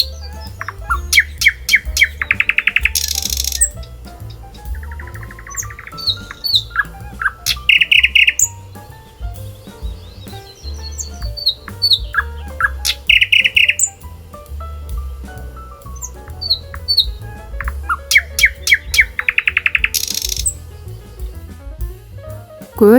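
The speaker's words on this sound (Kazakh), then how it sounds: "Бұл әнші қыз бұлбұл, орыс тілінде соловей." A nightingale sings in the wild with bright, varied phrases of rapid trills and whistles, repeated in bursts over a low background rumble.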